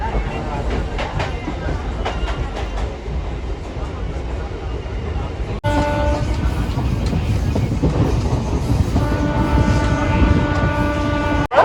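A Chennai local train rumbles past with a steady clatter of wheels on rails, loud and close, and a tonal hum rising partway through.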